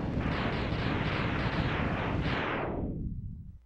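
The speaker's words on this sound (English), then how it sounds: "Vile did have a different explosion sequence, slightly." Vile's boss explosion in the Mega Man X video game: a dense rumbling burst of rapid blasts that fills nearly four seconds, then fades quickly into silence.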